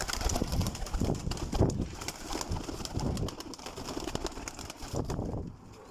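Breeder pigeons coo in soft, repeated throaty calls close by, layered over one another with a faint rustle of wings and no talking.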